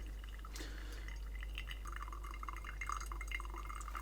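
Hot water poured in a thin stream over ground coffee in a V60 pour-over brewer, a steady faint trickle and splash running continuously for about four seconds with no talking.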